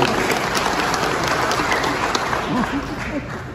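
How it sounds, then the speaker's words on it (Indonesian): Applause for the national coordinator chairman at a political gathering, a broad wash of crowd clapping filling the room steadily, with some murmuring voices mixed in. "Tepuk tangan untuk Ketua Kornas"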